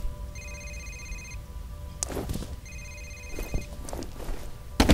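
Electronic telephone ringing in the video game F.E.A.R., two short trilling rings a second apart with footsteps and faint scuffing sounds between them.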